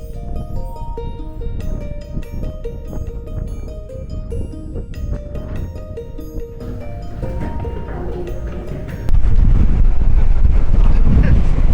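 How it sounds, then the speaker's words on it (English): Strong wind on the Great Ocean Road in Australia buffets the microphone with low rumbling roar throughout, growing heavier near the end, while faint tones ring underneath. "It's so windy here, oh my gosh!"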